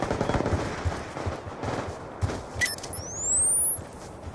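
Scorpion SMG gunfire in Call of Duty: Black Ops 2 multiplayer, a rapid muffled stream of shots under game ambience, followed by a short, sharp burst and a rising electronic whine.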